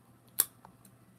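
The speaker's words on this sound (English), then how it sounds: "These are not the best scissors" A single sharp, close snip of scissors cutting, followed by a fainter second click, in an otherwise quiet room.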